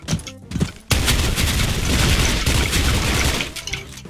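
An M4A1 SOPMOD1 rifle fires in the game Special Force 2: after a couple of short isolated shots, a loud, sustained burst of rapid automatic fire rattles on for about three seconds, then tapers off.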